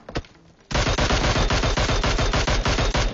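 Automatic gunfire in PUBG Mobile bursts in after a brief quiet moment, a loud, rapid, evenly spaced volley of shots running close and continuous to the end.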